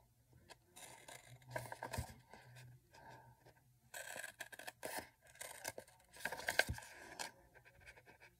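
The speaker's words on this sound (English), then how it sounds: "I'm cutting them 4 inches wide" Scissors snip through strips of paper about four inches wide for a braided bellyband edge, with faint, irregular bursts of cutting and rustling handled up close amid quiet pauses.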